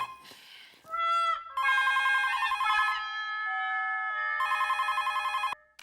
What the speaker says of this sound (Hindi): क्या फोन को देख क्या रहा है? जाके उठा।